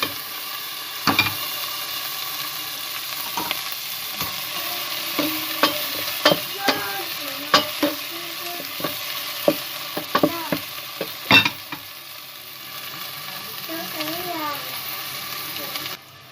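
Peppers and onions sizzle and fry in a pan while a spoon scrapes and stirs it now and then, with a few brief knocks; no one speaks.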